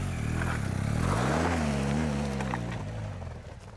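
A BMW off-road motorcycle engine revs and climbs in pitch as the bike drives hard up a dirt bank, a loud steady drone that rises, wavers, then fades slightly at the end.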